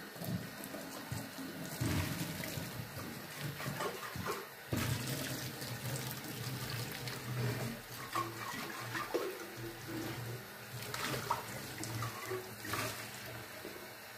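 Running tap water rinses an oil cruet, with a steady splashing flow that is broken by a few louder gushes and clinks as the vessel is turned under the faucet. No one speaks.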